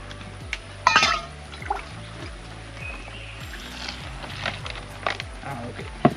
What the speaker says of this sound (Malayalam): നമുക്കൊരു ഗ്ലാസ് വെള്ളം കൂടെ അതിനകത്തേക്ക് ഒഴിക്കാൻ എന്തായാലും